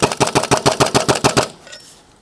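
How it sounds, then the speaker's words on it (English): A Sabre Abraham Nova HPA Nerf blaster fires a rapid burst of about a dozen sharp, evenly spaced pneumatic shots, loud and close, then cuts off into a faint mechanical tail and quiet. "Let's give it a bit of a burst fire."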